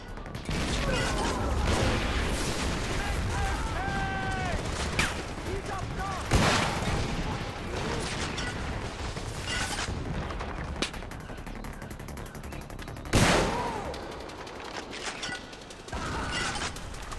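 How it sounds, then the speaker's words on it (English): Bursts of video game gunfire crack out in several loud volleys, with sharp isolated shots and clattering mechanical sounds between them, over a busy background of game effects. "Shots fired!"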